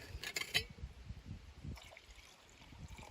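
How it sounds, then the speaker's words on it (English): Water trickles and pours into a container beside a wood gasifying stove, a quiet close dribble with a few brief clinks near the start and soft handling noises. "I'm going to have to top up my water a little here"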